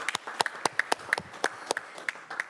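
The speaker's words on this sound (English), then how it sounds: "So let's give them a round of applause." A short round of applause at a city council meeting, a small group clapping with distinct, uneven claps, moderately close.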